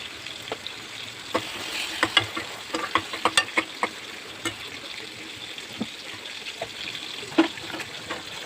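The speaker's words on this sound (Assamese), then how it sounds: "ভাজি লৈ কিনে এতিয়া মই ইয়াতে পানী দি দিম।" Water is poured into a hot pan of fried roasted brinjal for a fish curry, setting off a steady sizzle with scattered clinks and scraping from stirring throughout.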